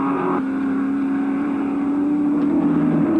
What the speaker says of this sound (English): Harvey has spotted the back of the Chickadee Commodore, and Cross in for the ride too as they head up Mountain Straight